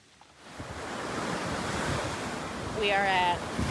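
Surf washes steadily ashore at Black Sand Beach on Vieques, Puerto Rico, a broad continuous rush that swells slightly louder toward the end, with wind buffeting the microphone.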